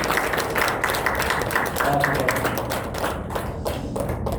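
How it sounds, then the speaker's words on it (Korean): Audience applause at a book talk in Seoul, a steady wash of many hands clapping with some voices mixed in, fading slightly toward the end. "박수 크게 치셔도 됩니다"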